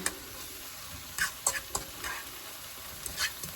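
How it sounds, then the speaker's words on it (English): Onions frying in butter and garlic, with a steady close sizzle broken by a few clicking, scraping stir strokes, moderately quiet and without speech. "You're going to fry up these onions until they're translucent"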